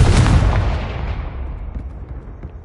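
A Confringo blasting spell bursts in Hogwarts Legacy on PS5, a loud booming explosion that hits at once and rolls off into a decaying rumble over a few seconds, with no talk.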